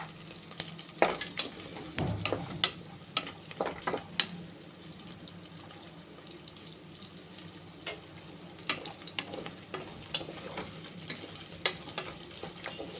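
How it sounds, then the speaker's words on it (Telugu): Cashews frying with onions in a pan, a soft continuous sizzle broken by frequent clinks and scrapes of stirring, fairly quiet, with no voices. "ఇప్పుడు మన ఉల్లిపాయ కొంచెం వేగింది కదా, ఇందులో మనం ఇప్పుడు జీడిపప్పు వేసుకుందాం."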